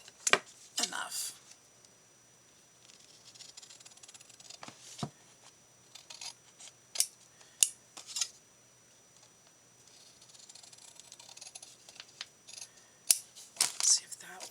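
Scissors trimming a paper tag, a few sharp, close snips and clicks scattered between quiet stretches, with soft talking at times.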